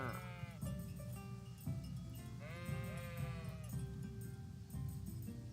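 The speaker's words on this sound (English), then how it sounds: "Oh, sheeps." Sheep bleat repeatedly in the video game Kingdom Come: Deliverance, several wavering calls overlapping close by over a steady farmyard background.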